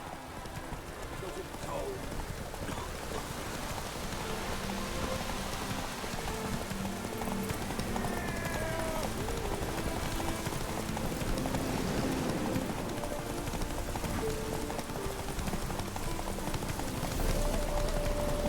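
The horse Roach gallops in The Witcher video game, with a continuous rhythmic drumming of hooves running under voices and background game sound.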